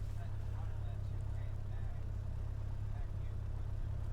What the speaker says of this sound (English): And then I run up the engine like I am here.